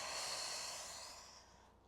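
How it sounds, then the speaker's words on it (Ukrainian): Breathing in and out during a guided breathing exercise: a long, soft airy exhale, close and steady, fading away toward the end, with no talking over it. "Вдих 3D і видих в сторону."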